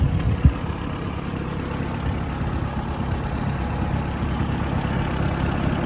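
Allis Chalmers WD 45 farm tractor engine idling steadily, a low continuous rumble with one brief knock near the start, no speech.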